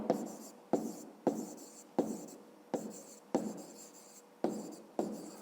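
A fifth-grade math exercise being written by hand, with pen strokes scratching across paper in short bursts of regular rhythm, close and quiet, separated by brief pauses.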